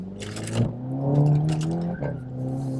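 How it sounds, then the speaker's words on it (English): A new Volkswagen Golf R accelerates flat out around a 90-degree corner, its engine note rising steadily in pitch with a brief dip and recovery as it pulls through, heard from inside the car. "I can go around this corner and literally put my foot flat"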